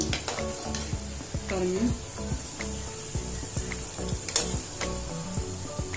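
Potato cheese balls deep-frying in hot oil give a steady close sizzle, with spoon stirs and clinks against the pan breaking through, and a brief word spoken quietly.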